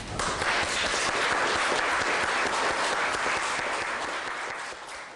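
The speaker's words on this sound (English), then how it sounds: "I'd like to give you a round of applause." An audience at a community justice center gives a round of applause, dense steady clapping from many hands that fades slightly at the end.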